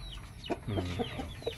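A rooster clucks a few low, short notes close by, a brief throaty series with quiet background and no speech.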